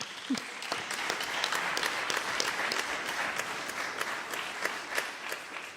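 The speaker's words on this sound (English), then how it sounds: "I think we should applaud for that." An audience applauds at an arts-foundation announcement event, a steady burst of many hands clapping at moderate distance for several seconds.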